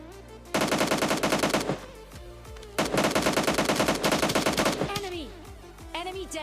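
Rapid automatic gunfire rings out in a battle royale video game in two long, loud bursts, separated by a short pause and followed by scattered tonal game effects.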